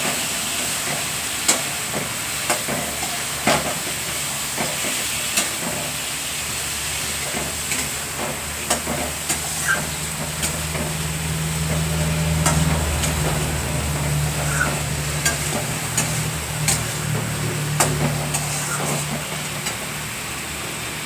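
Poppy seed paste sautéing in a pan for a pointed gourd steamed curry, a steady hissing sizzle with scattered scraping stirs throughout and a low rumbling hum in the background.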